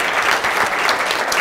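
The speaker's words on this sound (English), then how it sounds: "So let's give Bruce a round of applause" Audience applause after a talk at an on-site presentation event, a steady dense wash of clapping from a room full of people, fairly loud and continuous with no talking over it.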